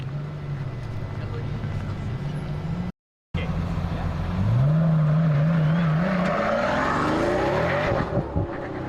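A Pagani supercar engine in a racing video game drones at a steady pitch, cuts out briefly, then climbs through a rising rev into a high, F1-like whine, loud throughout with faint background talk.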